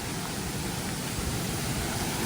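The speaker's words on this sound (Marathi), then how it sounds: "आणि हा धबधबा इथे आहे" A small waterfall in dense forest near Malgund, a constant close rushing roar of water that stays even and fairly loud throughout, with no talking.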